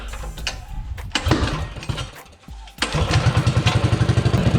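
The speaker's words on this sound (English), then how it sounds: "Let me fire this thing back up." A poorly running mini bike engine sputters and dies briefly, then restarts and runs with a loud, rapid, pulsing putter close by.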